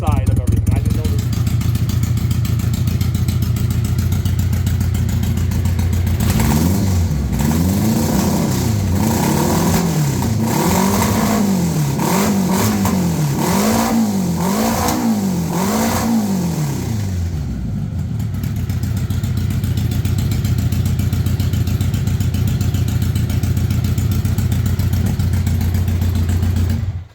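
A 1982 Honda Goldwing Aspencade motorcycle, just pressure washed and sitting in a shop, runs with a loud, close engine drone that swells and wavers through repeated revs before settling back to a steady idle.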